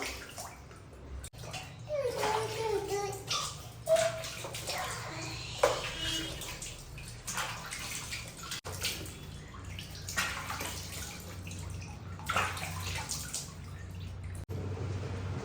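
Water is scooped and poured over a child at bath time, giving intermittent splashes and trickles with drips in between, close by and moderately loud, along with faint background sounds.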